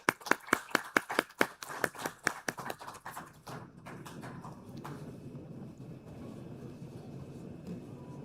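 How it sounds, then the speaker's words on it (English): A small group claps at an Insurance Association of Pakistan event, with a few distinct, rhythmic hand claps for about three seconds that then give way to faint room noise. "Let's give them a round of applause."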